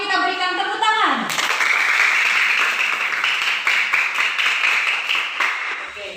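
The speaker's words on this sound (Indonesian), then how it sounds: "Mari kita berikan tepuk tangan." Students in a classroom break into loud, sustained applause for about five seconds. A teacher's voice is heard just before the clapping.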